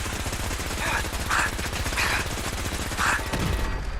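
Enemy gunfire in Fallout 4, rapid automatic bursts rattling continuously across the whole stretch with several louder volleys standing out, dense and fairly close within the game's combat din.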